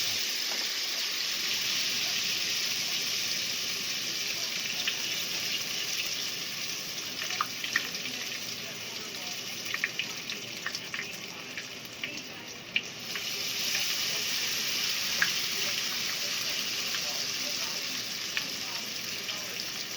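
Tempura-battered squash blossoms fry in hot oil with a steady, close hiss and scattered soft pops and crackles throughout.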